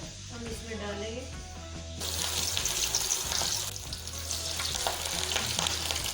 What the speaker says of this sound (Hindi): अब मैं इनको डीप फ्राई करूँगी। ऑयल हमारा गर्म हो गया, हम इसमें डालेंगे।